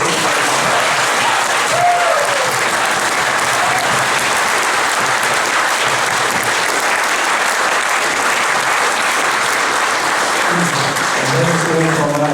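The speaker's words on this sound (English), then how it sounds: "can we please give a round of applause" Sustained applause from a large crowd, steady and dense throughout, with scattered cheers and voices rising near the end.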